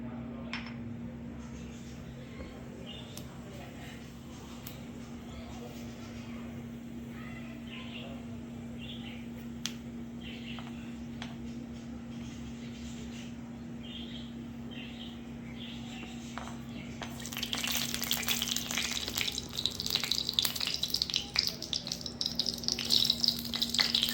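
Fennel seeds dropped into hot oil in a kadai for a spleen fry: a low background hum at first, then a sudden burst of brisk crackling and sizzling that stays loud and close until the end.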